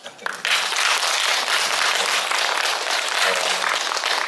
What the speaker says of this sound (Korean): 좋은 말씀 해주신 명진 스님께도 큰 박수 부탁드립니다